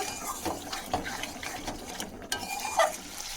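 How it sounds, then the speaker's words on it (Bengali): A spoon scrapes and stirs fried paneer into a thick cooking spice masala in a pan, with repeated uneven scraping strokes and a faint sizzle underneath. "আমি এর মধ্যে দিয়ে দেব আগে থেকে যে পনিরটা ভেজে রেখেছিলাম সেটা তো এটাকে খুব ভালোভাবে এই মশলার সঙ্গে মিশিয়ে নেব"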